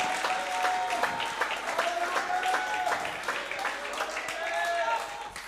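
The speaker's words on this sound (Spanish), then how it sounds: "Dense un aplauso en esta noche." A church congregation applauds steadily and loudly throughout, with dense clapping and a few cheers rising above it.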